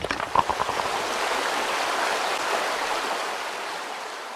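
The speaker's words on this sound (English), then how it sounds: "Water comes out," Water gushes out of a freshly cut hole in an underground tunnel wall, a steady rushing flow that starts with a few splashy bursts and settles into a continuous stream.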